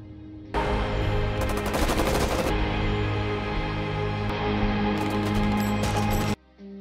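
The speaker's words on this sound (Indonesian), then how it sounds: "Rentetan tembakan dari ratusan peluru yang dimuntahkan membuat Lucas dan Carrie terpojok." Sustained burst of heavy automatic gunfire from many rounds in a prison action film, loud and dense for about six seconds with a music bed underneath, cutting off abruptly at the end.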